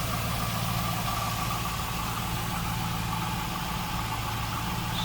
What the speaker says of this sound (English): Smooth running LS1 engine, low miles.